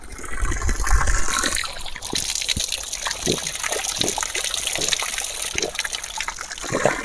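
Water runs from a mountain spring in a continuous trickling, gushing flow, close by, with scattered splashes and drips and faint background noise.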